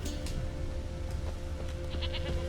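A goat bleats in The Witcher 3, several short calls over a low rumbling game ambience.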